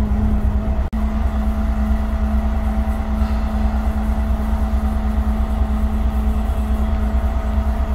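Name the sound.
Volvo Ailsa Mk3 bus engine while riding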